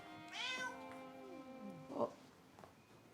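A cat lets out a clear, drawn-out meow up close indoors, followed by a shorter second mew a moment later, with faint rustling in a quiet room.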